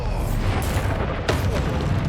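A Bombarda spell in Hogwarts Legacy bursts in a deep, rumbling magical explosion with a sharp crack partway through, loud and close over a heavy low boom.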